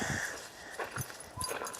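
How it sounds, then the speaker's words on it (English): A pet dog out on a walk along a small-town highway makes quiet, close sniffs and snorts in short bursts, with no one speaking. "I'm walking my doggy Daisy May"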